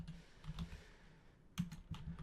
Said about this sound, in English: I'm typing in the wrong spot